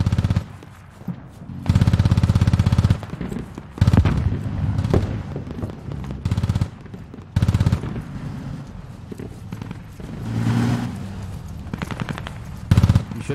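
Gunfire and heavy explosions roar across a battlefield in the military video game Squad during a mortar fire mission, with loud bursts and sustained rumbling volleys recurring every few seconds.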